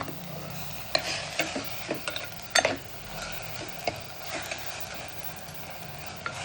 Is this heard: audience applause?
no